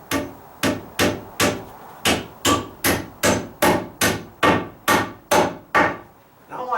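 A hammer drives a nail at an angle to toenail a metal joist hanger on a deck repair, about fourteen sharp, ringing strikes in a steady, even rhythm, close and loud, with no talking.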